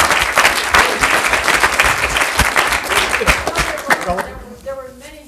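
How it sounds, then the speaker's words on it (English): Audience applause fills a lecture hall at the close of an ethics lecture, a dense sustained clapping that fades out near the end as a faint voice begins. "Let's give one more round of applause."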